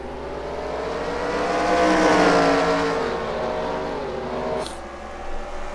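V8 Supercars race cars on a circuit roar past in a sustained engine drone that swells to a peak near the middle, then fades slightly, with a faint broadcast commentary bed absent and a brief high whine near the end.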